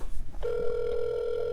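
A phone call rings over a speakerphone: after a short stretch of low background noise, a steady electronic ring tone starts and holds continuously, clear and fairly loud, with no talking over it.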